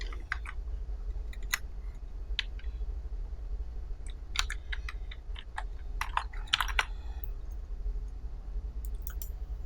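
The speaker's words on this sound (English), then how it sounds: "let's type our text" Text being typed on a computer keyboard at a desk, a stream of close, crisp key clicks at an uneven pace over a low steady hum, with no talking.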